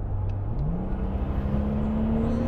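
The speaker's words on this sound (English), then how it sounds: "That mid-range, once you're moving, is insane." A Brabus G800 with a V12 engine accelerates hard, its deep engine note rising steadily in pitch under road and wind roar, heard from inside the cabin.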